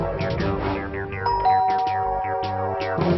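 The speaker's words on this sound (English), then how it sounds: "I'll ring the bell." A bell rings out in a repeated ding-dong pattern from a children's cartoon, with bright, loud chiming strikes over a musical background and no speech.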